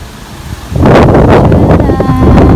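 Strong wind buffeting at a hilltop viewpoint among ridges and clouds, starting low then surging into a loud, steady roar with faint voices beneath.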